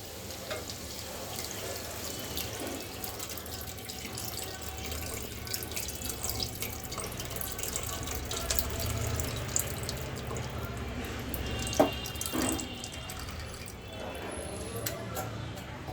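Soaked tamarind water poured into a taro curry, a quiet, continuous trickling and splashing of liquid that runs steadily for the whole stretch.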